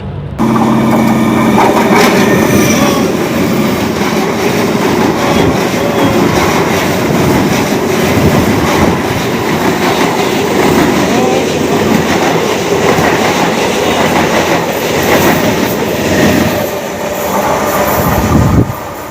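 A local passenger train to Canning station rumbles steadily along the rails with a rhythmic clickety-clack, loud and continuous throughout, with a brief surge of low rumble near the end.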